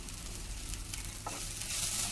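Eggplant masala is stirred in a hot pan, giving a soft, steady sizzle with faint scraping from the stirring. It stays quiet and close, with no talking.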